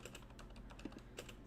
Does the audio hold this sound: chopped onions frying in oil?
no